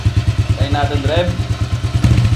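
Motorcycle fitted with an MT8 exhaust pipe throbbing loudly at close range in fast, even pulses that swell slightly toward the end, while a voice briefly speaks over the engine.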